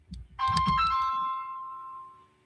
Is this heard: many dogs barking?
no